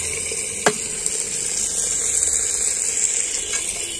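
Mustard seeds and cumin sizzle steadily in hot oil for a Telugu gongura curry, a continuous bright crackle with one sharp knock near the start and a few small clicks, no talking.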